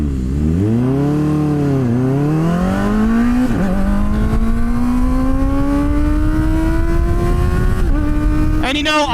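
Kawasaki ZX-4RR motorcycle engine revving hard while being ridden, a close, high-pitched wail climbing through the gears with quick shifts and rising pitch, with a brief burst of wind noise at the end.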